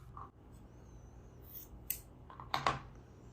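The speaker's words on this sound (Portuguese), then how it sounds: "Então, vamos cortar o fio." Scissors snip crochet yarn in a quiet room, giving a few soft, quick cuts near the end of the short stretch.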